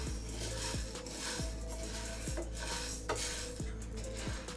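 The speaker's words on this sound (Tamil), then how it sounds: "இப்போது பச்சை பயிரை வந்து நம்ம வறுத்து எடுத்துக்கணும்." Green gram dry roasting in a pan, stirred steadily: a continuous dry rattle and scrape of grains with periodic metallic clinks of the spoon against the pan, close and moderately quiet, no talk.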